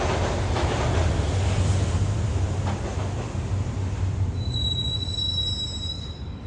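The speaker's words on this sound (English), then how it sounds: "the train doors had already shut behind me, and I was in for the ride" Subway train riding into a station in the video game Max Payne Mobile; steady low rumble of wheels on rails with high metallic squealing of braking wheels rising near the end, continuous and close, no talk.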